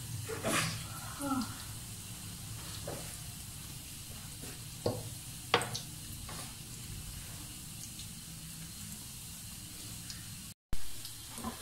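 Cheese balls coated in crumbs frying in hot oil, a steady soft sizzle running throughout with a few brief pops and clicks, moderately close, with a short dropout near the end.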